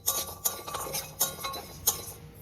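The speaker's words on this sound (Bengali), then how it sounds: "ভালো করে একটু নেড়ে নেড়ে" Whole spices are stirred around a wok, giving repeated scraping, clinking strokes in an uneven rhythm, close and moderately loud, with no voices.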